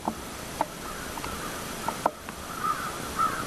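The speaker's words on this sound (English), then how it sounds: "Hear those ravens calling over there?" Ravens calling outdoors in light rain, recorded through a waterproof case on an action camera: a few sharp, distant caws spaced irregularly over a steady soft background hiss.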